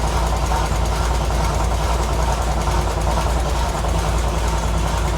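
A vehicle engine runs with a high-volume air compressor building pressure, producing a dense, loud, unbroken rumble with a steady low drone and broadband mechanical roar throughout.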